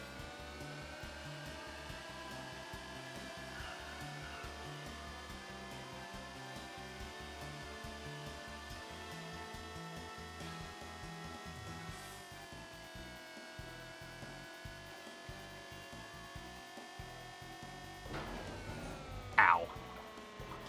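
A toy car driving through water in the racing game Choro Q HG, a constant buzzing, whining engine tone with shifting pitch over steady game audio, and a brief sharper burst near the end.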